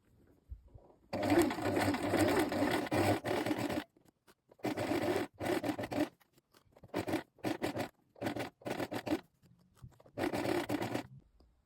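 Sewing machine stitching the waistband seam of Massimo trousers at a lengthened 3.5 stitch, running in one long burst and then several shorter bursts separated by pauses, close and steady.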